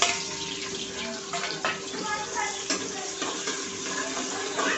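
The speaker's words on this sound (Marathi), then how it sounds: "त्यानंतर आपण ॲड करणार आहेत कांदे आणि कढीपत्ता" Chopped onions and curry leaves dropped into hot oil in a pan for masoor bhat, giving a steady, fairly loud hiss and crackle with a few stirring scrapes throughout.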